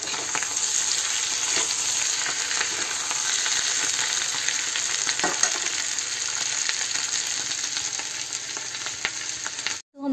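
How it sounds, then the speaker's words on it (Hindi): Potatoes fry in a pan for a Navratri fasting dish, giving a loud, steady sizzle that runs nearly unbroken for about ten seconds with faint stirring crackles and no voices. "आलू को फ्राई कर रहे हैं हम।"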